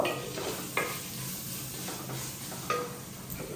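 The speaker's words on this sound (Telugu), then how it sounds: "అల్లం వెల్లుల్లి ఉల్లిపాయ పచ్చిమిర్చి ఉప్పు అన్నీ మంచిగా వేగినాయి" Ginger, garlic, onion, green chili and salt frying in a pan for a Pulasa fish curry, giving a soft, steady sizzle with a few faint stirring scrapes.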